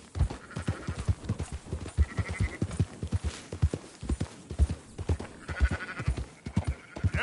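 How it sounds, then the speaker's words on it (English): Hooves clip-clop in a steady rhythmic gait in Red Dead Redemption, with occasional sheep bleats rising over the trotting near a ranch, close and moderately loud with no talk. "Marston, why don't you leave the sheep to me?"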